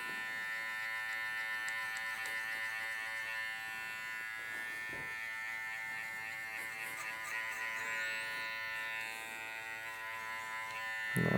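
Electric hair clippers run with a steady, close motor buzz while cutting a burst fade mullet along the hairline, holding an even hum for the whole stretch with slight shifts in tone as the blades move through hair.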